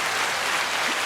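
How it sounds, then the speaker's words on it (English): Steady applause from a podcast audience fills the whole moment, a dense even wash of clapping with no voices over it. "Round of applause for that one, man."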